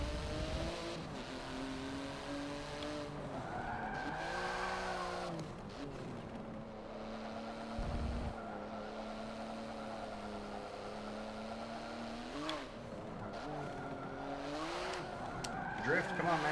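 Racing car in Forza Motorsport 7 slides and drifts with a sustained engine whine that rises and falls, tyres skidding throughout, while someone talks over it.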